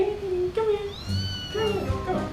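An augmented-reality cat gives a few drawn-out, wavering meows, close and clear, with a faint low hum underneath.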